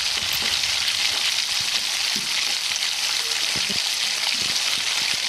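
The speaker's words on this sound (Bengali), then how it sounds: "আর এইভাবেই আমি সমস্ত মাছ ভেজে নিচ্ছি" Fish pieces sizzle steadily in hot oil, a dense continuous crackle with a few louder spits and pops, close and alone with no talk.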